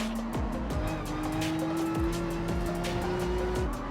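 Race car in Gran Turismo 7 at Deep Forest brakes late into a corner, its engine droning with falling downshift blips and some tire squeal, loud and continuous.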